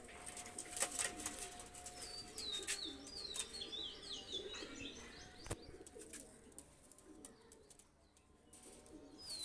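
Pakistani high flyer pigeons are let go outdoors, with cooing, chirps and a burst of wing flapping over steady background noise and birdsong, moderately loud throughout.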